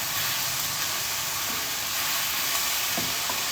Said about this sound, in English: Okay, garlic goes in.